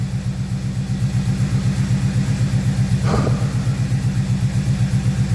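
An Oldsmobile 455 V8 idles with a light valvetrain tick, running on 20W50 oil; a steady, close, rhythmic low rumble with a regular pulsing beat, plus one brief brighter clatter midway, and no talking.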